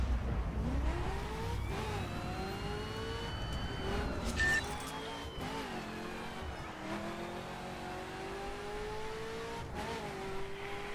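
An Aston Martin V8 Vantage S in The Crew revs and accelerates, its engine note climbing and dropping through gear changes in a steady, close-up drive.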